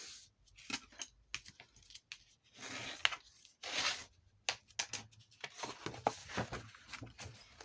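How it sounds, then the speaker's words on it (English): Paper panels for a handmade journal cover are folded along scored lines, making quiet, close, irregular bursts of crisp crinkling and creasing separated by short pauses. "right now I'm just going to fold on each of the lines that we just made"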